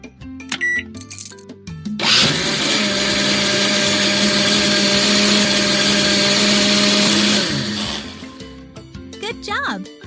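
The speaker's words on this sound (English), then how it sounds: "Turn it on." Blender in a cartoon salon cooking game whirs steadily for about six seconds while blending raspberries, sugar and ice cubes, starting abruptly and cutting off, with short game jingles and effects before and after.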